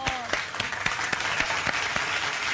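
Steady applause from a crowd, dense clapping filling the whole stretch at an even level, with a few sharper claps standing out.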